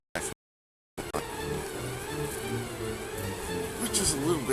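Honeybees buzz steadily at a busy beehive entrance with about fifteen bees leaving each second, a dense close drone that continues after a brief silent gap near the start.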